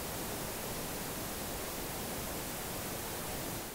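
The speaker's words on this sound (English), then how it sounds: "If I apply dither to a silent audio file and turn the volume way up, we can hear the sound of dither alone." Dither applied to a silent audio file and turned way up, a steady uniform hiss of broadband noise, constant and unbroken from start to finish, with nothing else present.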